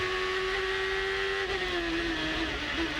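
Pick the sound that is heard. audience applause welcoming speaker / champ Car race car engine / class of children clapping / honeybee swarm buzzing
champ Car race car engine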